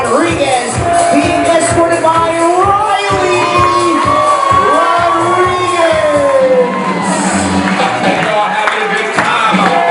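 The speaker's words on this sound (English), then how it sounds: "I want a nice huge round of applause for Farrah Rodriguez" Wedding guests in a reception hall clap, shout and whoop loudly and continuously, a busy crowd sound with rapid claps and scattered high-pitched yells throughout.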